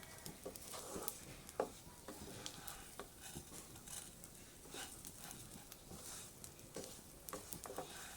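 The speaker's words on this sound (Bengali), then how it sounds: "চালটাকে খুব ভালোভাবে ভেজে নেব" Rice being fried in oil for pulao, a soft steady sizzle with scraping stirs and light clinks of a spoon against the pan, close and fairly quiet.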